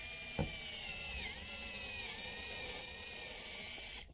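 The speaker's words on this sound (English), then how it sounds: "drill right through the shims" Power drill driving screws through wooden shims into a front door frame, a continuous whining motor drone with a dip in pitch partway through, preceded by a brief knock, close and steady.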